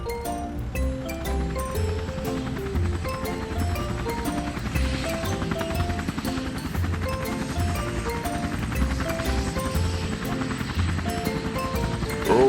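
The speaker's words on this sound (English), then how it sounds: "Helicopter is here." A cartoon helicopter flies with a rhythmic rotor chop running steadily through, backed by a bouncy musical score.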